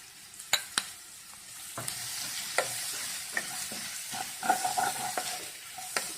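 Curry leaves and cashews fry in a pan for fish molee, giving a steady close sizzle broken by sharp clinks and scrapes of a spoon stirring against the metal.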